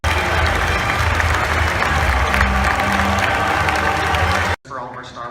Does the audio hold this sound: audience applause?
yes